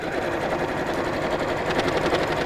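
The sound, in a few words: sewing machine top stitching across a seam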